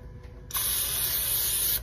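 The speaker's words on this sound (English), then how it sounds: "I'm going to spray the inside of it with some" Pam cooking spray sprayed inside a container while making copycat Velveeta: one continuous, close, loud hiss lasting just over a second, starting abruptly after a quiet moment.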